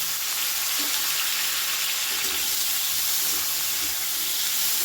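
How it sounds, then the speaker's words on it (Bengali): Potatoes and chopped tomato fry over a high flame, a loud continuous hiss and sizzle with faint stirring knocks and scrapes underneath. "টমেটোটা দিয়েও একটু নাড়াচাড়া করে নেব"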